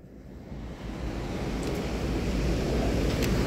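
Strong typhoon wind roars steadily in Hong Kong with crashing waves, a dense close rumble that builds slightly louder over a few seconds.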